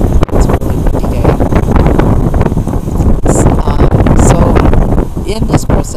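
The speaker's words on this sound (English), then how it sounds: "It's a really windy day." Strong gusts batter the microphone outdoors on a windy day, a loud, continuous rumbling roar with sharp buffeting bursts.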